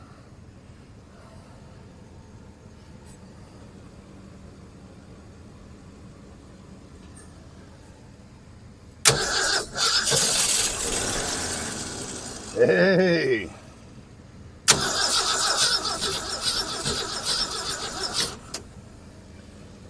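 Engine of an abandoned farm truck running on mixed fuel, cranking loudly for a few seconds, catching briefly, dying, then cranking again; a voice shouts once between attempts.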